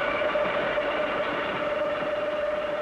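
A 1949 New York subway train out of Utica Avenue rolls along an elevated structure, a steady loud rumble with a sustained whine and continuous rail noise throughout.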